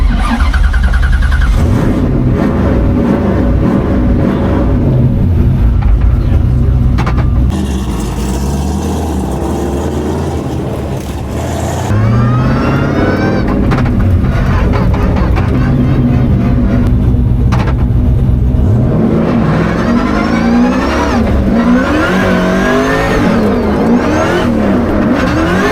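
A turbocharged LS-swapped Corvette engine revs hard through a run, loud and close, with rising whine sweeps as it climbs through gears and a brief lull in the middle before pulling again.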